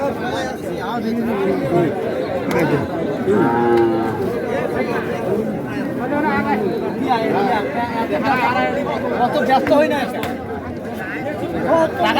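Cattle, including Sahiwal, Sindhi and local dairy cows, low and moo at a busy rural livestock market, with repeated bellows rising over constant crowd chatter and close talking.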